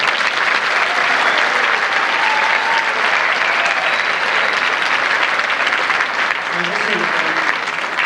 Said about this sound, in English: give one final applause for all of them